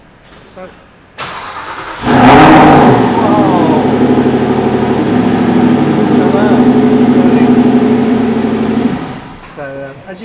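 An Aston Martin Vantage S engine roars up as the car pulls away, then holds a loud, steady note for several seconds before dropping off, close by, with people talking over it.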